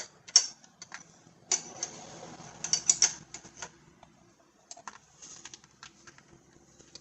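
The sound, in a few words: wrench tightening A/C hose fitting on Buick Enclave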